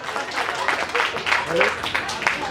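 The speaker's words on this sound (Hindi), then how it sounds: "ताली बजाइए एक बार जोरदार" Audience applause at a Hindi comic poetry recital, a dense wash of clapping that swells and holds steady through the moment, with voices and cheers mixed in.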